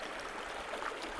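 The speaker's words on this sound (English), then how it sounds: "squeezing it and pushing water out of this filter" Water is forced out through the filter of a squeezed water bottle, giving a soft, steady hissing trickle, faint and continuous with no talking.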